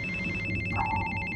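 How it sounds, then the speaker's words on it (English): A telephone rings in a theater audience with a steady electronic trill and a rapid pulsing ring, moderately loud over a low background rumble. "Sir, that ringing sound! It's coming from the audience!"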